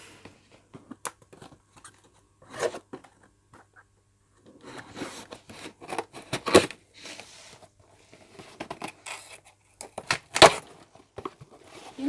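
Apple AirPods packaging is cut and torn open, giving scattered close crinkles, scrapes and rips of cardboard and plastic in irregular bursts separated by brief quiet gaps.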